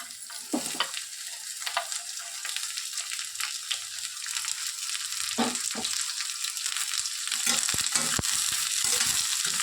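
Onions, green chillies and chopped ivy gourd fry in a hot pan, a steady bright sizzle with occasional stirring scrapes and clicks, close and continuous, growing slightly louder toward the end, with no talking.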